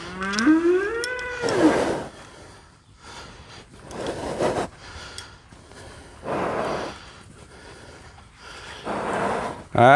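Cattle in a field near a nervous horse give several loud, drawn-out moos, one with a rising and falling tone at the start, then fainter lowing calls repeating every couple of seconds against outdoor noise.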